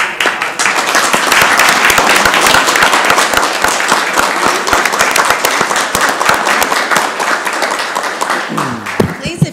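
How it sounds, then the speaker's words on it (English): An audience at a city council proclamation for Diabetes Awareness Month and World Diabetes Day applauds, with dense, steady clapping that holds loud for about eight seconds before thinning out. "Let's give them a round of applause."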